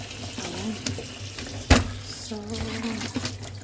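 Tap water runs steadily over large crabs being washed in a sink for lunch, a continuous splashing stream with a person talking over it and a brief louder splash partway through.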